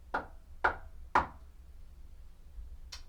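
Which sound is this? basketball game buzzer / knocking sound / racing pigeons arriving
knocking sound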